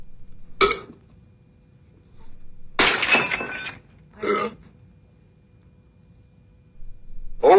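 Glass breaks in a few separate sharp crashes and tinkling shatters, spaced apart with near silence between them, close and crisp over a faint steady hum.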